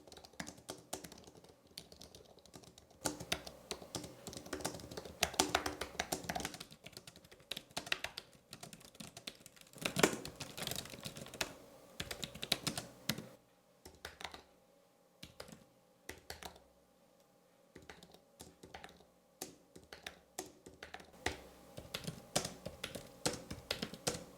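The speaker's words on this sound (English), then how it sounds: "Maybe the Logitech is a little bit more quiet, maybe not. Have a listen yourself." Typing on a Logitech K380 keyboard: a quiet, continuous patter of soft key clicks in irregular bursts with brief pauses, heard close and alone.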